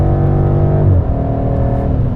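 A 2018 BMW M5 sedan with a 600 HP engine accelerates hard, its loud, close engine note holding a deep steady drone that shifts pitch briefly midway.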